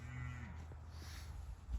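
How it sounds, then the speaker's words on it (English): Cattle on a nearby cattle operation, a faint low moo near the start followed by quiet outdoor ambience and soft rustles. "That's life living next to a cattle operation."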